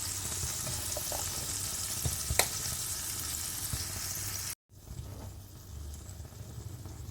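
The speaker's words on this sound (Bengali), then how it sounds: "দিয়ে দিলাম অল্প পরিমাণ জল আমটা সেদ্ধ হওয়ার জন্যে।" Water poured into a hot pan of cooking mango and tomato chutney sets off a loud hiss and sizzle that runs on steadily, cuts out briefly, then resumes more softly.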